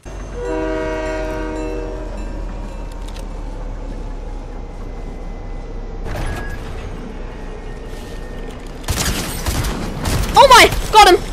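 Fortnite train horn sounding as a long stacked tone through the first two seconds, then fading under game noise, with bursts of gunfire near the end.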